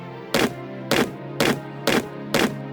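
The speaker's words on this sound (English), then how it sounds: "Bumping into a stone wall." Bumping into a stone wall in the Shadow Rine video game: five evenly spaced dull thuds, about half a second apart, each a short loud knock with a brief ringing tail over a steady low background hum.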